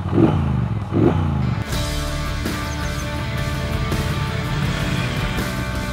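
A Triumph Bonneville Speedmaster's 1200cc parallel-twin engine rumbles steadily through stock mufflers with a deep, bassy exhaust tone, idling close by after a couple of brief revs at the start.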